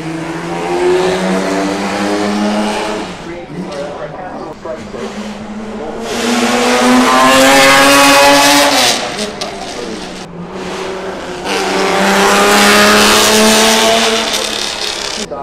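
A vintage Aston Martin DBR1 race car at the Goodwood Festival of Speed roars loud and close in repeated rising revving surges, with brief dips between pulls. A voice speaks over part of it.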